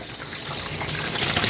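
Running water rinses soap off a dog during grooming and drains away, a steady close hiss of spray and trickle with no talking.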